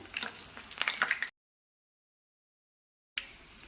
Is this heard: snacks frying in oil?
yes